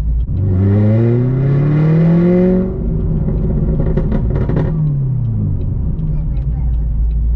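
A C7 Corvette engine revving hard with rising harmonic sweeps for about three seconds, then dropping to a rougher idle burble with scattered crackling exhaust pops, loud and close inside the car.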